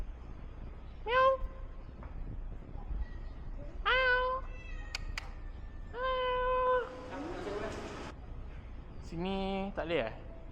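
A cat stuck on an apartment roof meows repeatedly, four or five clear, fairly close cries spaced a couple of seconds apart, with people talking quietly in between.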